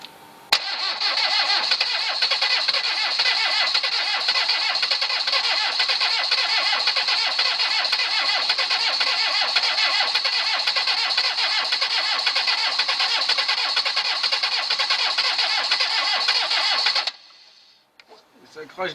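A Citroën CX 2200 diesel engine with a suspected stuck-open valve, spitting fuel, cranks continuously and loudly for about seventeen seconds without catching, then the starter stops abruptly into near silence.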